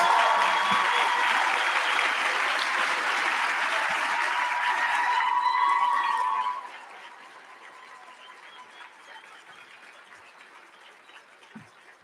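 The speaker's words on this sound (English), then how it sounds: "Give a round of applause." An audience at a women's achievement award celebration gives steady applause for an award winner that holds for about six seconds, then drops off abruptly, leaving only a few stray claps and quiet room noise.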